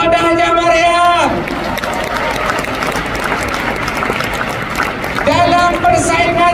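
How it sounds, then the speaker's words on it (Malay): A large crowd applauds at a recognition rally, a dense, even wash of clapping that fills the room for several seconds between stretches of amplified, musical-toned speech at the start and end. "Tepukan untuk Bonda Haja Mariam"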